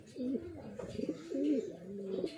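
A racing pigeon coos in a series of soft, rolling, throaty calls, close and clear, repeating in a steady rhythm with no talking over it.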